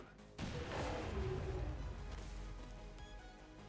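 A single muffled explosion in XCOM 2 booms at a distance, followed by a low rumbling decay that slowly fades.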